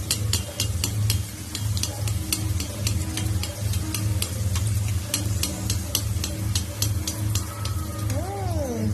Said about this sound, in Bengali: তো এইভাবে একটা একটা করে প্রত্যেক কটাই ভেজে নেব।